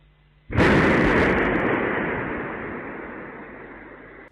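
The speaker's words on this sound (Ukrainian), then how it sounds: "У російському брянську ввечері 30 серпня пролунали вибухи" A single loud explosion erupts suddenly after a quiet evening moment in Bryansk, Russia, then a long rumbling roar slowly fades away in the distance.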